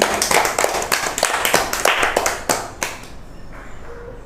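A group of children claps together in quick, slightly ragged bursts, loud and close, then thins out and stops after about three seconds into quiet room tone.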